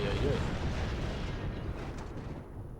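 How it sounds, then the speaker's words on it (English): A large TNT explosion goes off in the video game Ghosthunter, a loud, broad, rumbling blast that decays slowly over a few seconds. "Who doesn't know a good, unnecessarily large explosion?"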